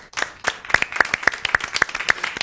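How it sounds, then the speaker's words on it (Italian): A small audience claps for a young girl, sharp individual hand claps in a quick, uneven rhythm standing out clearly against a quiet room, close and distinct rather than a dense roar. "A lei ci vuole l'applauso, hai visto?"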